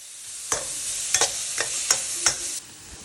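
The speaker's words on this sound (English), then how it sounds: "Stir fry that in for a minute or two before we add our meat" Onions, garlic and curry paste stir-frying in a pan, a low sizzle punctuated by five sharp utensil scrapes and knocks at an irregular rhythm, close and without talk.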